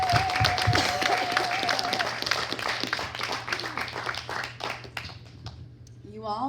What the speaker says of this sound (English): So can we give yourselves a round of applause?